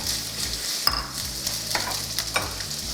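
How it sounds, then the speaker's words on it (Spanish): Chopped onion sautés in oil in a pot, a constant close sizzle with a few sharp metallic clinks and scrapes from stirring breaking through now and then. "en una cacerola vamos a echar un chorrito de aceite para poner a sofreír lo que habíamos picado anteriormente. Entonces vamos a poner la cebollita"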